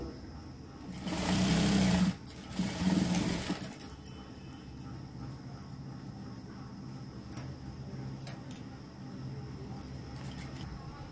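Sewing machine stitching the shoulder seams of a knee-length frock in two short loud bursts, then a quieter hum and faint clicks, with a voice speaking under it.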